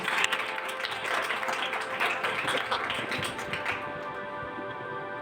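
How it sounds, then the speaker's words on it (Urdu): Worship congregation clapping loudly and steadily in a church service, a dense wash of many hands, easing slightly toward the end. "زوردار تالیاں خداوند کے لیے بجائیں گے۔"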